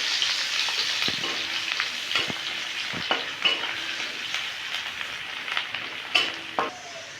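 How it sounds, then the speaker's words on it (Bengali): Chopped onions frying in a pan for a soybean and potato curry make a loud, continuous sizzle, broken by repeated scraping and tapping from a spoon stirring them. "এটার পরে দিয়ে দেবো পেঁয়াজ কুচি। এটাকে লাল লাল করে ভেজে নিতে হবে।"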